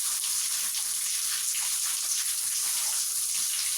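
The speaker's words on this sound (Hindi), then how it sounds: "आज बहुत तेज बारिश हो रही है," Heavy rain pouring outdoors, a loud, continuous hiss of dense downpour with no other sounds.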